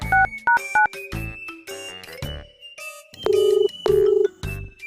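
A telephone ringing right after a call is placed: two short bursts of ringing tone at the start, a longer electronic ring pattern near the end, and other tones and beeps in between, all close and loud.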